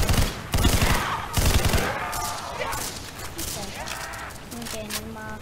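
Bursts of rapid gunfire from a weapon in a zombie video game rattle loudly near the start, then give way to softer game effects and tonal chimes while someone talks over them.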